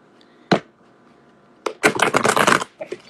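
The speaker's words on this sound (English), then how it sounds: "Shuffling up the cards." A deck of playing cards being shuffled: a single sharp riffle burst early on, then a longer dense flurry of rapid card flutters, close and fairly loud, with no talking.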